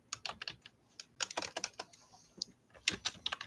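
Someone types steadily on a computer keyboard nearby, in irregular bursts of crisp keystrokes with brief pauses.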